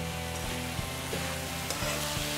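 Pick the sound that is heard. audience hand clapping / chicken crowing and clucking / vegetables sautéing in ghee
vegetables sautéing in ghee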